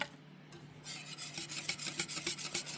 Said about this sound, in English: A little couple cranks of salt.